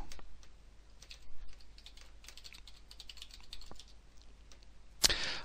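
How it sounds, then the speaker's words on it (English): Typing an email address on a computer keyboard, a quiet run of rapid key clicks at an uneven pace, followed by a sharper click at the end. "So I'll just type in my email address at the top."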